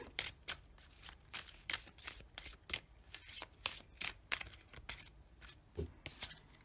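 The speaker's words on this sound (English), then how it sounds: "Now we're going to draw one of the Unicorn Oracle cards for you," Oracle cards of a Unicorn deck are shuffled by hand in quick, dry riffling bursts with short pauses between them, close and fairly quiet, with no voice over them.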